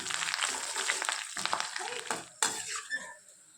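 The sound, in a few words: spices and dals frying in oil for tempering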